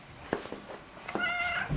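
Soft taps and rustles give way to a cat's meow, a bright rising-falling call near the end, close by.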